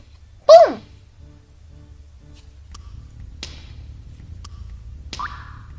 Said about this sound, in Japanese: この置くときのパーンって音さ